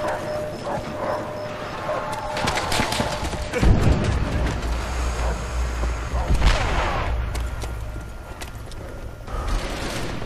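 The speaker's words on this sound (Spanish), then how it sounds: "Nuestra artillería destrozará su moral." Artillery fire in Call of Duty: World at War, heavy booms and volleys, loudest around the middle, over a busy battlefield bed with barking dogs and occasional voices.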